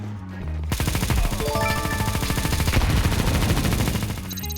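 Negev light machine gun firing in Counter-Strike 2, one continuous rapid burst of loud, closely spaced shots lasting about three and a half seconds, ending with a short mechanical click.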